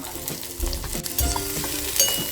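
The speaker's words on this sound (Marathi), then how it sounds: "कांदा चांगला परतून घ्यायचा" Large chopped onion frying in oil in a kadhai with garlic, curry leaves and coriander for an oyster masala, a steady close sizzle with scraping stirs and low knocks of the spoon.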